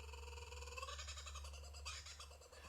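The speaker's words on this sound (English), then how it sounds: "You can hear the kookaburra here." Kookaburra calling in the background, a laughing series of rising and falling hoots and cackles, moderately distant over a steady low hum.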